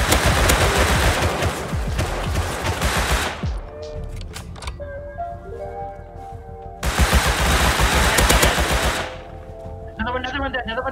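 Sustained M2 machine gun fire in the game Rust, dense rapid bursts filling the first few seconds and returning mid-clip, loud and close, with quieter gaps between volleys and some faint tonal game sounds.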